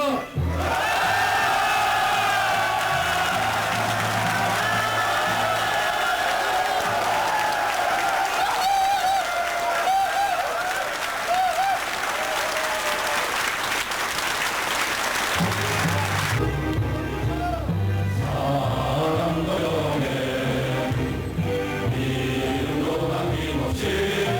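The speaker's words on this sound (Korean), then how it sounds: "여러분의 힘찬 박수와 함성 속에서 시작하겠습니다" Rally crowd at a pilots' union protest meeting, sustained loud applause and cheering with shouts, dense and continuous, shifting toward rhythmic chanting near the end.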